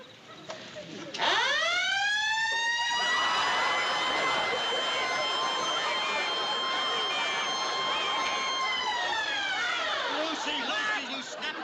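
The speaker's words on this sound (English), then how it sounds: "you stepped on the siren button" A siren set off by a pressed button winds up fast to a loud, steady, harmonic-rich wail, holds for several seconds and then winds down, with faint talk underneath.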